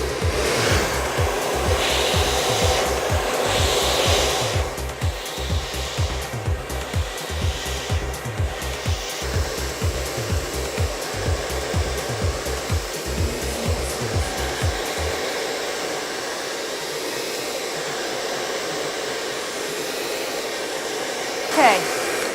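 Loud, steady blow-dryer roar from a Toni&Guy Super Solano worked through hair with a flat paddle brush in a salon, with a rhythmic pulsing as the brush passes; the dryer cuts off partway, leaving quiet brushing and rustle.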